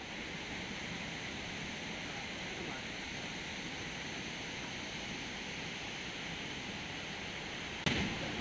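Taytay Falls in Majayjay, Laguna roars in heavy rain, a dense, continuous wash of falling water that stays loud and steady throughout, with a brief sharp knock near the end.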